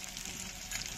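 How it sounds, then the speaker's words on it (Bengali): Potato pieces fry with salt and turmeric in hot oil, giving a soft, steady sizzle that runs evenly throughout at low volume with no talking. "এবার ভালো করে আলুটা ভেজে নেব।"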